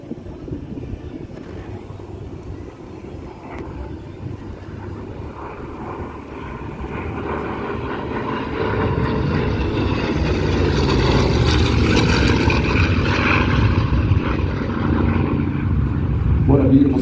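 Hawker Fury propeller fighter flying at the Central Coast Airfest 2023 airshow, its engine drone building steadily from moderate to loud as it passes near, with wind buffeting and crowd chatter underneath.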